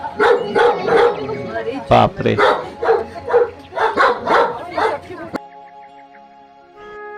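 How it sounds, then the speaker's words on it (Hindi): Several large dogs, three or four of them, shut inside a room at a hilltop organic farmhouse, bark loudly in rapid overlapping bursts for about five seconds before going quiet, with a person exclaiming briefly nearby. "ये देखो ऐसे ही 3-4 बड़े बड़े कुत्ते दीदी ने हमारे डर के मारे अंदर बंद किए हुए हैं"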